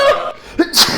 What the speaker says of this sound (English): Sneeze. Sneeze again.